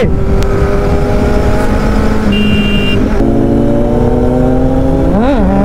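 A Kawasaki Z900 motorcycle racing, its engine droning loud and close with steady whining tones that step down as it shifts gears, then a quick rev that rises and falls near the end.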